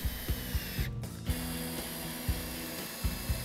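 Screws are driven into southern pine boards for a potting table with a rapid ratcheting click, with several quiet taps spaced across a short stretch.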